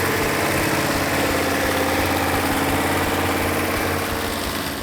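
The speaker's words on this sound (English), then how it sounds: "Everybody involved in bringing this engine back to life, the Phoenix Cuda engine, did a fantastic job." A 1971 Hemicuda's Hemi V8 engine idles steadily, a loud, close, even low rumble with a rhythmic lope that holds without pause.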